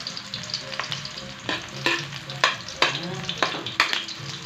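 Garlic frying in hot oil for beef adobo, a close crackling sizzle broken by repeated sharp scrapes and knocks of a spatula stirring at an uneven pace, with no speech.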